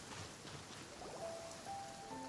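Soft, steady rain falls in the Genshin Impact game world, a faint, even patter with no talking and a few quiet sustained tones rising near the end.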